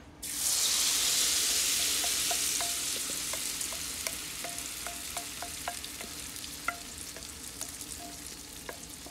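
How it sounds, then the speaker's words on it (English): Cornbread batter hits a hot skillet with a loud burst of sizzling that settles into a steady crackling fry, dotted with small pops. "So I'll pour the remaining batter into the big skillet."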